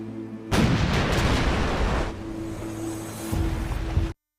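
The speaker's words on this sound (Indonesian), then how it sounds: "Tiba-tiba terdengar suara tembakan." Gunfire in a tense period drama scene, loud booming blasts and rumbling over a steady low hum, with surf-like noise filling the background for several seconds before cutting off abruptly.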